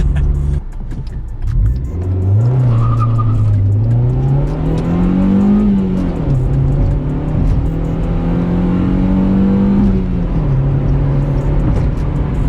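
A Honda Civic EJ6 accelerates hard from a standstill in a 0-60 run, its engine revving up through several gears with drops at each shift, loud and close from inside the car with no talk.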